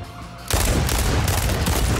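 Enemy gunfire erupts in a video game shootout: after a quiet half-second, a dense, loud burst of rapid shots rattles continuously to the end.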